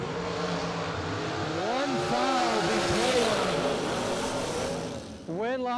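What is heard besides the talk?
dragsters racing at a bracket drag race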